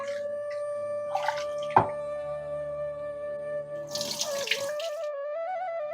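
Two short bursts of running tap water splash as biryani rice is rinsed, heard over steady background music.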